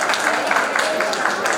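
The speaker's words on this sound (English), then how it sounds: "Let's have a huge round of applause for Karishma." Sustained applause from an audience at a college IT fest felicitation, a dense, steady wash of many hands clapping at even loudness for the whole stretch, with no talk over it.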